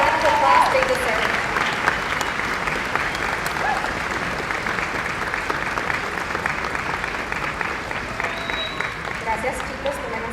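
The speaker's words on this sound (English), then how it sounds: "Let's give them a heartfelt round of applause they deserve." Graduation ceremony audience clapping for a graduating class, sustained broad applause filling the hall for about ten seconds, with faint voices underneath.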